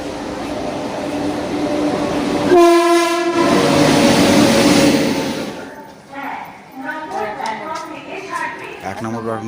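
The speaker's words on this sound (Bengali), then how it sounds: "তো রাইট টাইমে নয়ারিতে নামিয়ে দিয়েছে গৌড় এক্সপ্রেস" Gour Express passenger train pulling into a station, its loud horn blaring close by for about a second over rumbling wheels and carriage noise, then easing down as people talk on the platform.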